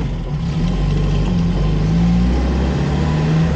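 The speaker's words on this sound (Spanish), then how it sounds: "este sonido de los motores Sierra" A 1960s Renault Caravelle with its rear-mounted Sierra engine runs steadily while driving, a loud, even mid-pitched drone with slight rises in revs and no talk.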